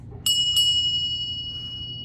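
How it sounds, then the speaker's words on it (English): A heavy vintage brass bell struck twice in quick succession, each hit a bright metallic ding with a long pure ringing tone that slowly fades, close and clear against a low background hum. "It is a vintage brass bell."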